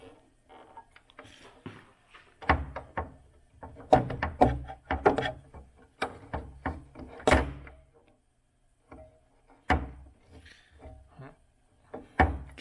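The safety door on a Parker pneumatic punch press with a 6-inch bore and 2-inch stroke is handled and opened, giving a run of metallic clunks, scrapes and rattles in bursts with short pauses, close and moderately loud.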